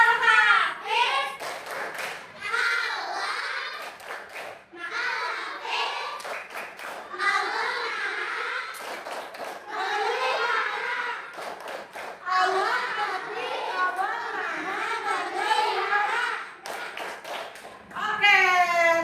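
Children perform the Tepuk Al-Hafiz clapping chant, sharp rhythmic hand claps in groups punctuating their chanted children's voices, repeated in bursts from start to finish.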